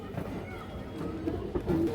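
A lively male pigeon of a good bloodline, red-eyed with purple legs, coos in short bursts close by, its low throaty calls rising over a steady background murmur.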